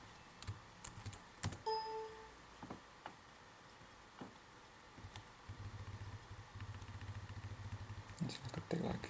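Fingers type steadily on a computer keyboard, light close clicks coming in quick uneven runs, with quiet talk early and a low steady hum beneath the later keystrokes.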